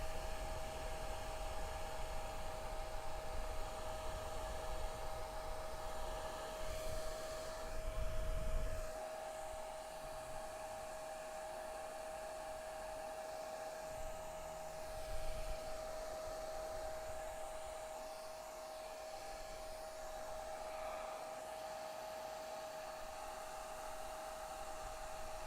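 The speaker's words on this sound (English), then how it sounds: "As I'm drying it, I'm pushing the paint around with the hairdryer." A hair dryer blows steadily on wet paint during a beginner flower painting session, a constant, fairly quiet whirring hum with a steady tone, briefly surging now and then as it moves, with no talking.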